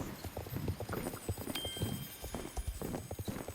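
Quick, steady clip-clop of a horse's hooves in Star Stable Online, a rhythmic run of soft close thuds at a low level with no talking.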